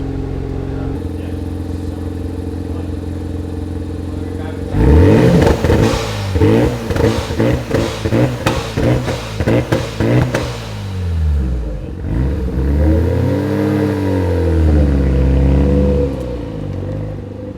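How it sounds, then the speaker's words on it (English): A boosted car engine idles, then revs hard in a string of sharp, loud blips with a blow-off valve whooshing between them. It finishes with a few longer, swelling revs, heard up close and without speech. "once you put it into boost and rev it, it's loud. Your blow-off valve in this thing is also sick"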